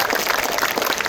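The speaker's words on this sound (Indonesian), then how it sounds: "Boleh beri tepuk tangan yang meriah" A concert audience at Monas claps in a brief, dense burst of applause, steady and fairly soft throughout.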